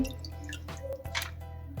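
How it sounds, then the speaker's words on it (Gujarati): Water draining and dripping from soaked poha (flattened rice) set in a perforated colander, a close, steady trickle with a few soft splashes and no talking. "એમાં આવી રીતે આમ નાખતું જવાનું છે જેથી કરીને પાણી બધું જ નીતરી જાય"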